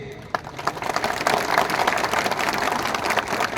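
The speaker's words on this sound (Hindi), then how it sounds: "सब इनको भी एक बड़ा ताली दीजिए" An audience claps at a political gathering in Tripura, scattered claps building into dense applause that carries on steadily, moderately loud and without talk over it.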